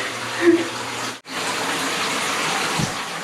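Tap water gushes steadily into a tub being filled to bathe dogs, a continuous broadband rush that briefly cuts out once before resuming, with a voice speaking over it.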